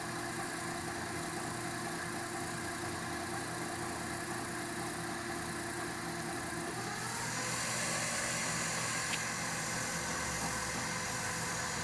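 A coil winding machine hand-winding a guitar pickup hums and whirs continuously, its motor pitch shifting partway through as the winding speed changes during a scatter wind, steady and close with no talking.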